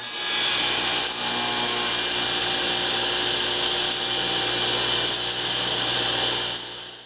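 A belt-driven Delta 36-725T2 table saw runs idle, a steady bright whine and hum holding constant for several seconds before beginning to spin down at the end.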